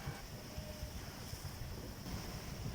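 Wind and waves rush in a steady broadband wash around a sailboat under sail on open ocean, with wind buffeting the microphone and no voices.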